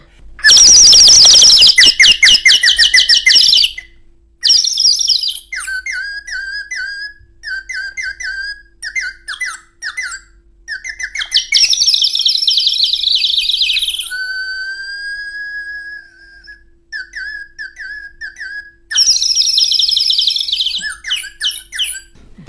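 Sparrow chirps made as a sound effect: loud bursts of shrill, rapid chirping and whistles alternate with quieter scattered calls, a sustained whistle and brief silences, with no talking.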